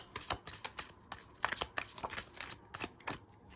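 Tarot cards shuffled close up in quick, soft riffling bursts with small slaps and flicks as cards are handled and drawn, fairly quiet.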